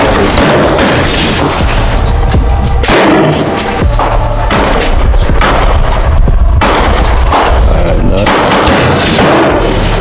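Loud, sharp rifle shots from an Aero M5 .308 AR10 fired at a target 400 yards out, several close reports at irregular intervals with booming echoes and brief gaps between.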